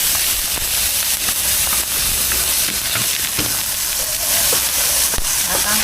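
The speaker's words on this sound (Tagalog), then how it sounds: "igisa na po natin ang ating bawang" Chopped garlic and onion sauté in a hot pan, a steady close sizzle and hiss with scattered crackles and stirring clicks, while a person talks faintly in the background.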